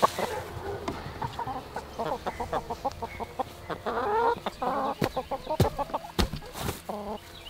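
Several chickens cluck and murmur nearby in short, irregular bursts, with occasional sharper squawks and rustling.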